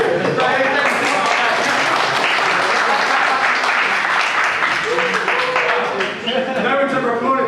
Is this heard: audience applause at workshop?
yes